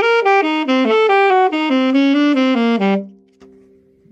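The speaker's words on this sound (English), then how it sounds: "If I just tongue the upbeats, it would sound like this." A solo horn plays a quick jazz line with arpeggios and chromatic runs, tonguing the upbeats so the notes come out evenly detached, then ends on a held low note that fades to near silence.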